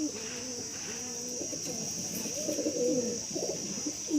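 Teddy pigeon cooing softly in low repeated phrases, fairly faint, over a steady high insect-like hiss.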